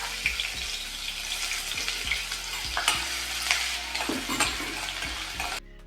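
About a quarter cup of finely chopped onion goes into a quarter cup of hot oil for a mutton dish, a dense crackling sizzle with clinks and stirring knocks, close and steady, ending abruptly.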